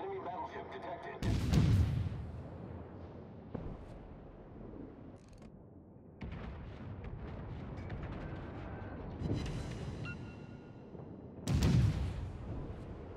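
Heavy battleship main-gun salvos in the naval game World of Warships, three deep booming blasts spaced several seconds apart over a continuous rumble of sea and engine noise.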